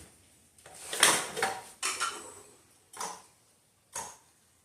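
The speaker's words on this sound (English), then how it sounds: "Now we're going to chop it up, try to make some smoked fish dip" Smoked mullet seasoned with K-Fred seasoning being chopped with a knife on a board for fish dip: a handful of separate, fairly close knocks and scrapes, spaced about a second apart, with no talking.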